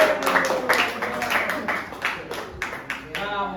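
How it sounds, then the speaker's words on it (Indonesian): Scattered clapping in a classroom during a teaching session, a few uneven claps mixed with voices talking. "Tepuk tangan."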